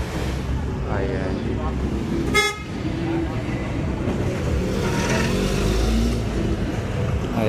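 Cars and traffic at a relief drop-off where vehicles keep arriving with donations, with a sharp horn toot partway through over steady engine and road rumble while people talk nearby.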